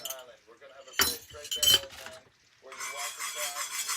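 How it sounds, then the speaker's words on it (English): A gravy mixture for chicken fried steak is stirred in a pan: metal utensil clinks and scrapes against the pan, then a continuous scraping stir at close range, with a person talking at the start. "Add the mixture to pan, stirring continuously for 2 to 3 minutes"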